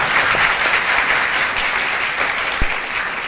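A studio audience claps steadily and loudly for comedian Pedro at a Guinean comedy show, a dense, even burst of applause with no talk over it.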